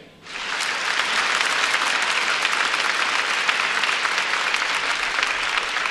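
Congregation clapping steadily at a church revival meeting, a dense, sustained wash of applause that swells in within the first half second and holds loud throughout, with no talk over it.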